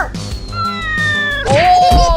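A cat meows loudly and close, drawn-out calls with a strained, wailing finish, over a lively comedy-sketch background.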